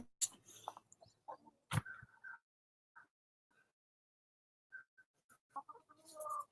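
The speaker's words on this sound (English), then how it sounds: "I'm feeding my chickens." Backyard chickens cluck in short, scattered bursts close by while pecking at weeds tossed to them as feed, with quiet gaps between the calls and a few sharp rustles.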